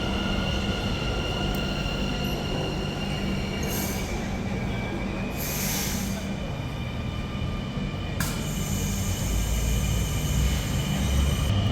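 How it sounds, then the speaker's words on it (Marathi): Trains passing at a railway station in the Netherlands, a steady rumble of rolling wheels and rail noise with occasional brief high squeals, continuous and fairly close. "तसेच एक इकडनं पण एक ट्रेन येत आहे"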